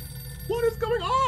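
A telephone rings briefly inside the horror game The Mortuary Assistant, a short warbling tone rising over a low background hum.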